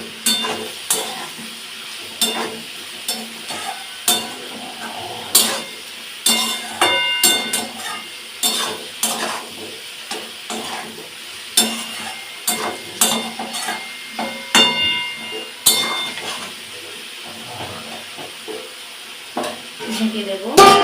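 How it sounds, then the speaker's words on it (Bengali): Potatoes frying in a pan for a Bengali vegetarian aloo posto curry, stirred with chili powder: a continuous close sizzle with repeated scraping stirs of a utensil against the pan, while a person talks intermittently. "আর একটু কষে নেব। লঙ্কার গুঁড়োটা দিয়ে দেব।"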